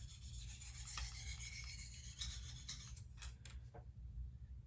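A Benchmade Steep Country knife being sharpened on a KME guided system, a close, dry rasping scrape of the stone along the blade in repeated short strokes.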